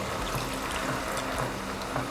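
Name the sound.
cow's milk poured into jackfruit seed payasam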